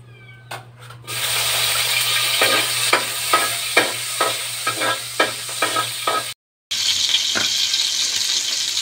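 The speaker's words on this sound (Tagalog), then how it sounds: "So pag mainit na yung ating mantika, lalagay na natin yung ating mga lamas." Garlic, onion, tomato and chili hit hot oil with a loud sizzle, followed by a run of rhythmic scraping stirs about every half second, a brief drop to silence, then frying resumes.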